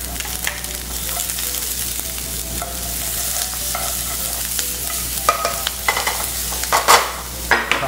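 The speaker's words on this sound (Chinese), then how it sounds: "蒜末十五克下来" Fifteen grams of minced garlic stir-frying in a wok, a continuous sizzle punctuated by repeated spatula scrapes and metallic clacks that grow louder and more frequent toward the end, no voices.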